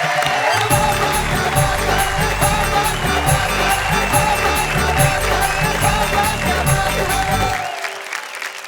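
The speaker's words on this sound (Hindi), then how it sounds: "तालियां बजाइए, गुरु सक्सेना जी हमारे साथ आ रहे हैं।" An audience at a Hindi poetry gathering applauds the arriving poet Guru Saxena: loud, sustained clapping from a full crowd with music underneath, fading out near the end.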